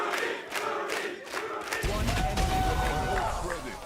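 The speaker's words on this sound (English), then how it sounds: "Getting the crowd riled up." A large esports arena crowd at a VCT Americas Valorant match roars and cheers loudly, swelling into a dense sustained wall of noise after sharp claps and shouts.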